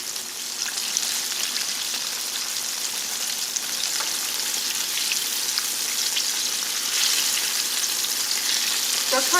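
Chicken fried steak tenders, fully covered in hot oil, frying with a loud, dense, continuous crackle and sizzle like heavy rain, steady throughout and close, with no one talking.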